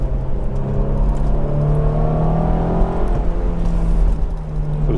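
BMW Z4 engine pulling hard in second gear, a loud rising drone climbing steadily in pitch from the cabin.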